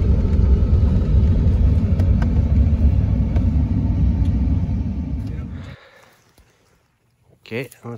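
A truck drives along with a loud, constant low rumble for several seconds, then the engine noise drops away abruptly into near silence, followed by a brief burst of nearby sound at the end.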